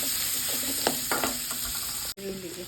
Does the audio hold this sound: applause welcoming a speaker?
no